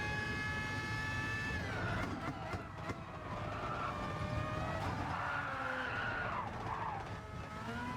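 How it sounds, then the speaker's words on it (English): A race car in GT Sport spins out at Interlagos in sixth gear, tires squealing in long, loud, sliding howls over a steady engine roar that rises and falls through the spin, with no voices. "And spinning in 6th gear is just insane."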